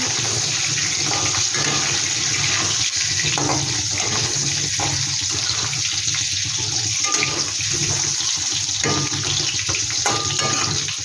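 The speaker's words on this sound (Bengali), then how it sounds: "আলুটা একটু হালকা করে ভেজে নিচ্ছি" Potatoes fry lightly in a pan for a Bengali koi fish curry, a loud continuous sizzle and hiss held close and steady, with no voices.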